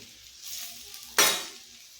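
A spoon stirs mutton masala seasoned with chili powder and salt in a hot pan. A soft background sizzle breaks into one sharp scraping hiss near the end, then fades, with no talking.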